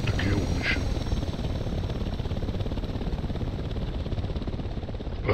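Video game helicopter hovering nearby, a dense, fast, steady rotor thump that stays loud throughout, with a brief faint voice near the start.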